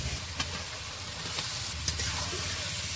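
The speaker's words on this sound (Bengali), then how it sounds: "এবার মাছটা দিয়ে দেবো কষা মশলায়" Snakehead fish from a village canal drops into hot oil and fried spice paste for a light curry, setting off a steady, close sizzle and hiss with a few brief sharper crackles.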